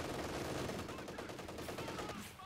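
An MG34 machine gun fires in the video game Company of Heroes 2, a dense, continuous rattle of rapid shots mixed with other battle noise that fades slightly at the end.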